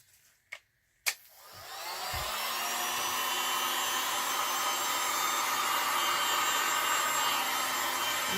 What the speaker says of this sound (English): Heat it up. As you can see, I need a new heat gun.